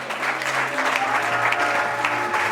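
A church congregation bursts into dense, sustained applause for the name of Jesus, loud and close, a crowd of hands clapping without pause.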